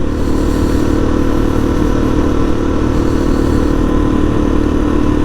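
Supermoto dirt bike engine droning steadily at high revs during a morning ride, loud and close throughout with continuous wind rush and no pauses.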